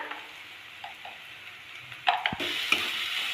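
Onions frying in goat fat with salt, stirred in a pan: a soft sizzle with light scraping touches, then a louder, steady hiss in the second half.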